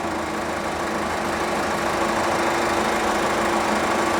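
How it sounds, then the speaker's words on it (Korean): A Kia Carnival R engine idles smoothly and evenly in a steady, close, continuous drone that holds the same pitch and level throughout, with no talk over it. "해당 차량 엔진의 아이들린 상태 굉장히 좋은 차량입니다"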